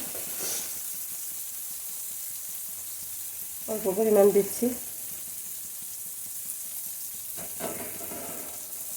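A steady sizzle of spices frying with pointed gourd in a pan runs throughout, with a brief spoken remark partway through.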